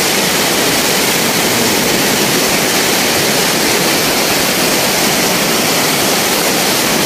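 Loud, steady roar of a large flooded river rushing past, a dense broadband wash with no pauses, close and continuous throughout.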